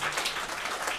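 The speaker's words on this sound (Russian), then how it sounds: "Ваши аплодисменты я" A short stretch of dense audience applause at a jubilee concert evening, steady and even throughout, with no talk.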